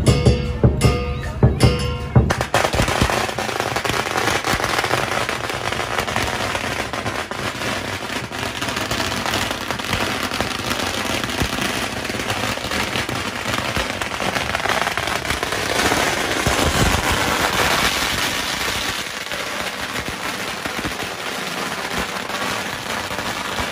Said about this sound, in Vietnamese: Bữa nay mình sẽ quay lại cái giờ phút nổ pháo cho mọi người xem lại nhá.